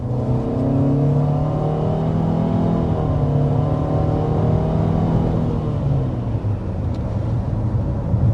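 A 2026 Mitsubishi Outlander accelerates from a start with a steady, droning engine hum that rises gradually, heard close from the cabin with no talk.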